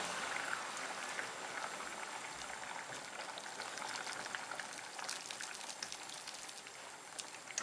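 Chicken vermicelli soup boils steadily in a pot, a dense, even bubbling and popping that continues without a break, close and moderately quiet with no voices.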